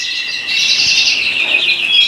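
High, thin bird chirps and twittering, a continuous close chatter of siskins.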